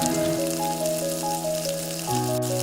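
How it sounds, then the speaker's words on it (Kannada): Peanuts frying in hot oil on a low flame, a continuous dense sizzle heard close under steady tonal hum from nearby equipment, with no talking. "ಕಪ್ನಷ್ಟು ಶೇಂಗಾ ಕಾಳನ್ನ ತೊಗೊಂಡಿದ್ದೀನಿ ಎಣ್ಣೆಯಲ್ಲಿ ಚೆನ್ನಾಗಿ ಫ್ರೈ ಮಾಡ್ಕೊಳ್ಳಿ"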